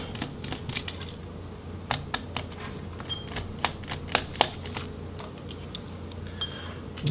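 Small screws are backed out of the cooling fan of a Toshiba Satellite L50D laptop: sharp irregular clicks and ticks of a screwdriver on metal and plastic, close and fairly quiet over faint room hum.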